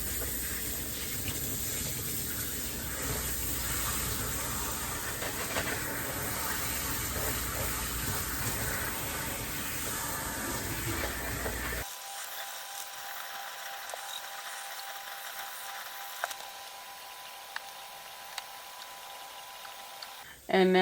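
Water from a tap runs steadily while rinsing shampoo out of hair at a salon sink for about twelve seconds, then stops, leaving a quiet room with faint clicks.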